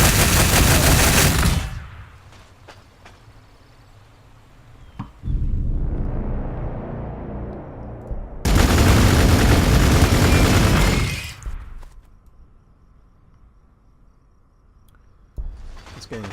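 Bursts of gunfire ring out in the strategy game Warhammer 40K Gladius, with two loud volleys of rapid shots separated by quieter stretches of lower rumbling.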